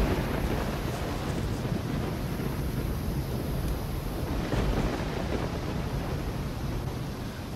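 Stormy weather in the video game Risen, with a steady roar of wind and rain, faint low rumbles of thunder and lightning, constant and loud across the whole stretch, no voices.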